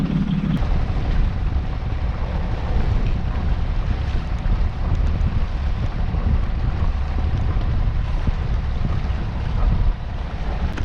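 Strong wind roars steadily over a microphone aboard a sailboat sailed single-handed upwind off Hook Head, a loud continuous low rumble with water noise beneath, no talking.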